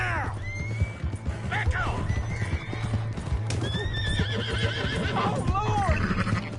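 A horse in the Red Dead Redemption 2 video game neighs and whinnies repeatedly over rapid clip-clopping hooves, with someone shouting and a steady low background hum throughout.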